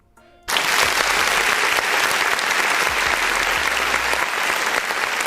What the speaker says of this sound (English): All right, enough applause.